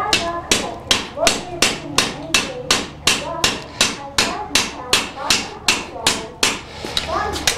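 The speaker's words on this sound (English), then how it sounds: "while this bar is still glowing hot, going to make a few more notches" Rhythmic hammer blows strike a glowing hot steel bar to cut notches at a blacksmith's anvil, about two sharp metallic ringing hits per second, loud and close, steady throughout.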